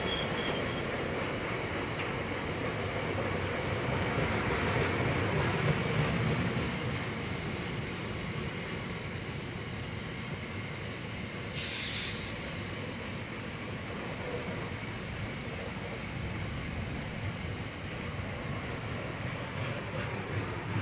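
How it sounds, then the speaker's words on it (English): Class 66 freight locomotive 66306 hauling a freight train past at Water Orton, a steady loud rumble of engine and wagons that holds for the whole stretch, with a brief higher squeal partway through. "next up we see 66306, passing on time to move up to the signal"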